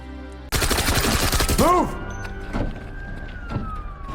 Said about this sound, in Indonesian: tiba-tiba terdengar suara sirene polisi